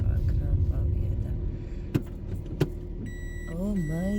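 A car moves slowly at low speed while the driver hunts for a parking spot, its engine a steady low rumble with a couple of brief knocks, and a voice talks over it near the end.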